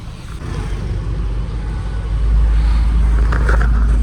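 A pickup truck, a new 1.7 AC model, drives along with a steady low engine rumble that grows louder and heavier after about two seconds, with no talk.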